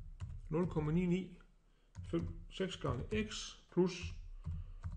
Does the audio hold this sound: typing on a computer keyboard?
yes